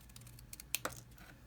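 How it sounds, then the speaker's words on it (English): Scissors cutting paper for a hand stamped card: a few quick, crisp snips close to the microphone, faint and isolated against a quiet background. "I'm just going to take my scissors and kind of eyeball about the same amount there"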